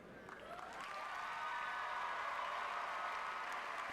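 A commencement audience applauds in a large hall, a steady wash of many hands clapping that builds quickly and holds at an even, full level.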